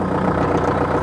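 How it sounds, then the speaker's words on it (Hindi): A Kubota MU4501 four-cylinder tractor engine runs with a steady low diesel rumble close by, loud and even throughout, with no voices. "दोस्तों ट्रैक्टर को स्टार्ट कर लेता हूँ"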